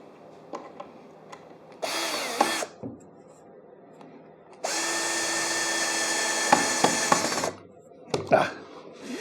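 A power drill drilling wood for a camper's wall framing whines in two bursts, a short one and then a longer steady run, with clunks and handling noises between them.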